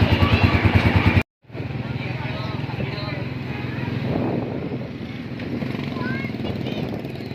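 A motorcycle engine runs steadily at close range, a low throbbing drone that cuts out for a moment near the start and then carries on under people chatting outdoors.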